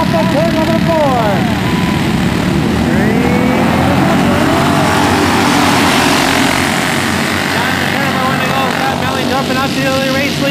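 Race cars roar around Turkey Trot Raceway during a Jr 2 Pro heat, engines whining and sweeping in pitch as they pass, loud and continuous beneath a track announcer's voice.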